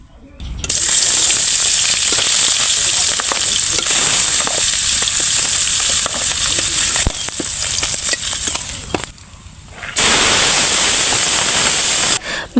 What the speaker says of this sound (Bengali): এখন আমি প্রথমে মাছটা ভেজে নিব।